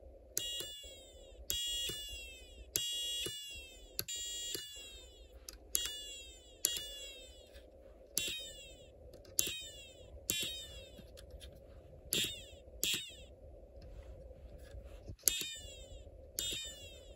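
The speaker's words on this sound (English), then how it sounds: "so the only sound you hear is from the whistle chip." A Snap Circuits Extreme SC-750 whistle chip sounding alone without a speaker: repeated shrill electronic chirps with downward sweeping tones, roughly fifteen pulses in a fairly steady rhythm over a faint hum, with no talk.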